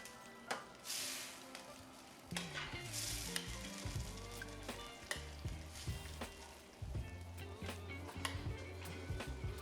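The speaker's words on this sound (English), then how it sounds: "we're gonna go ahead and give it a mix" Gravy for pork chops is stirred in a pan as a slurry thickens it, with repeated close scraping stirs over a soft bubbling sizzle.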